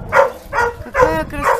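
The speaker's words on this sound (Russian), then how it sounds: "Собачка, какая красавица." A small pink-nosed puppy gives four short, high yappy barks spaced evenly apart, close and fairly loud, with a whiny, squeaky quality.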